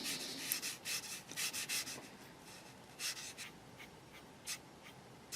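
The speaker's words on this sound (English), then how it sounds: "if I'm scraping across the cardboard, that's going to sound shocking in the audio" Paint being scraped across cardboard while working on a 1/12 scale Tamiya motorcycle model kit: quiet, close, uneven rubbing strokes in short bursts with pauses between.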